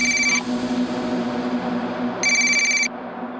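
Telephone ringing in two electronic bursts, near and fairly loud, with a steady tone in between.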